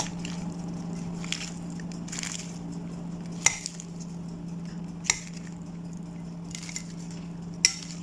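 Utensil stirring Indomie instant noodles with spices, soft squishy mixing with a few sharp clinks against the dish over a low steady hum.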